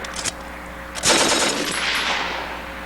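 A crew-served machine gun on a recoiling mount fires short, loud, close bursts, a quick one followed by a longer rattling burst that rings out and decays.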